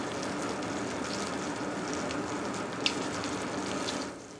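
Meat browning in a hot frying pan, a steady broad sizzle and crackle that holds evenly for several seconds, with one brief sharp pop near the end before it eases off.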